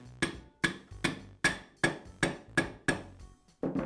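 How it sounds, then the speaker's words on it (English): Rubber mallet tapping a router armature into its motor housing during a Porter Cable router bearing repair: nine sharp, evenly spaced knocks with a slightly ringing edge, close and clear with no talk. "I'll use a rubber mallet to tap it into place"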